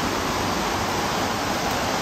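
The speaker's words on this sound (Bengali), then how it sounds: "এত জোরে বৃষ্টি আসছে" Heavy rain pours down in a steady, dense roar that stays even throughout, loud and close, with no voices.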